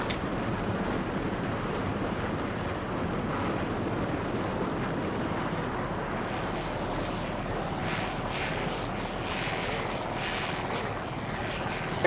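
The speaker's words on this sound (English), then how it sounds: "This is a 38-foot cigarette powered by twin 730 horsepower Mercury inboards with Mercruiser outdrives." A 38-foot Cigarette racing powerboat with twin 730-horsepower Mercury inboards and MerCruiser outdrives races past, heard as a steady, fairly distant engine drone with a rushing, wash-like texture throughout.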